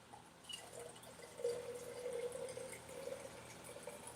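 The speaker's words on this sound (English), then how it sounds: "I'm going to pour the rest of this in there." Liquid poured from a bottle into a container, a soft steady trickle and gurgle that swells after a second and runs on, fairly quiet, with no talking.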